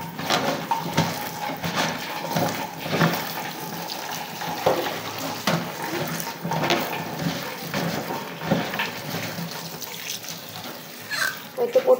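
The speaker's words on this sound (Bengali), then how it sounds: "এখন আমি পটল আর আলুটা আগে ধুয়ে নেব।" Pointed gourd and potatoes are rinsed by hand under a running kitchen tap, with a steady splashing water stream and intermittent clatter of the vegetables and bowl nearby, and no talking.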